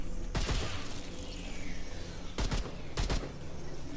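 Gunfire through an energy wall in the game Remnant 2: sustained rapid shooting over a loud noisy game background, with several sharp clustered bursts standing out near the start and again toward the end.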